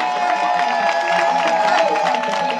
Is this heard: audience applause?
yes